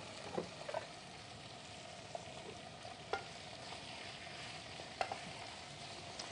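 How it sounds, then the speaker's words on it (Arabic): Small pieces of diced meat fry in ghee with a little tail fat, giving a steady soft sizzle with a few faint clicks of stirring scattered through it. "طبعا السمنه وفيها حته ليه صغيره، وبعد كده حطينا اللحمه اللي احنا مقطعينها"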